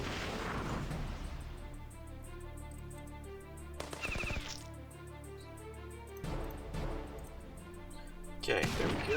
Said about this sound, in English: Firework attack.